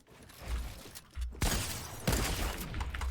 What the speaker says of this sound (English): No way he fucking sniped me.